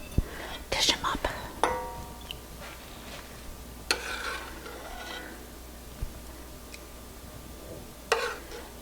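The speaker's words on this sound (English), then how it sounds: "So now all we have to do is dish them up." Stovetop Texas ranch-style baked beans with chopped ham hock meat are spooned out, giving a few soft scraping and clinking serving sounds spread apart over a quiet background hum.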